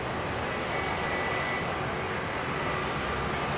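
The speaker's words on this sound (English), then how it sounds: "All 3 aircraft going out in the space of 20 minutes, folks." An aircraft departing London Heathrow Airport roars continuously, a steady, fairly loud broadband engine rumble heard from outdoors with no talking over it.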